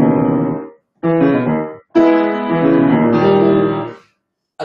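Solo piano passage with the left hand rolled, notes spreading upward before each break; three phrases separated by short silences, played close and moderately loud with no talking.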